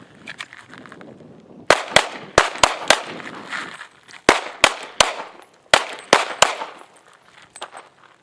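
Gunshots from a shooting drill in the desert, a rapid series of a dozen or so sharp cracks in uneven bursts, some nearly overlapping, loud and close with outdoor echo.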